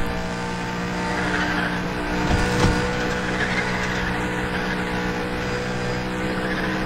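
A car in the racing game Need for Speed The Run roars at high speed with a sustained engine drone and a long squeal of skidding tires, loud and continuous throughout with a brief surge in the middle.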